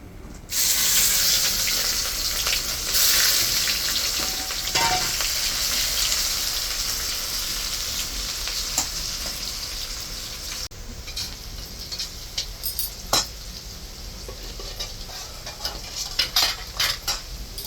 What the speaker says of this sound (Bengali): দুইটা তেজপাতা দিলাম, গোটা জিরা দিলাম